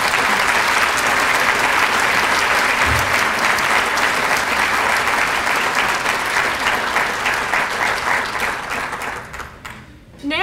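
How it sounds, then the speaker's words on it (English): Sustained, loud applause from an audience honoring award recipients at an ethics awards ceremony, steady dense clapping that gradually thins out and fades near the end. "Let's give all of these honorees a big hand."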